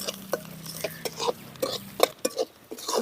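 Garlic, onion and chana dal being stirred in a pan with a spoon, giving a series of sharp scraping scrapes and clinks in an irregular rhythm, with a low hum under the first half.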